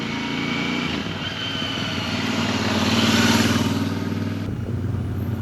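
A motorcycle engine drones steadily on a street, its exhaust note swelling louder as it passes close and then fading, with no talking.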